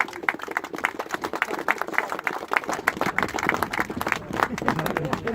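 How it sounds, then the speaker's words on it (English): A crowd at an outdoor Rochdale protest gathering about a grooming scandal applauds itself, with uneven, scattered clapping, occasional cheers, and voices mixed in throughout. "So give yourself a round of applause, please."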